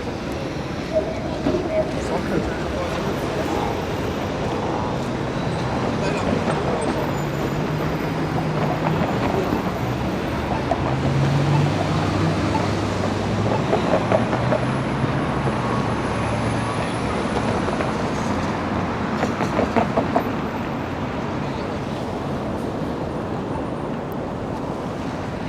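A Toronto 506 Carlton streetcar rolls north along Bay Street on a diverted route, a steady rumble with rising and falling rail noise over city ambience and passing traffic, moderately near, with voices talking over it.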